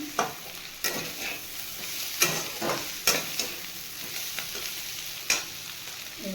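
Fig and potato pieces frying in a pan: a constant close sizzle with several sharp scraping strokes of a spatula stirring them at irregular intervals.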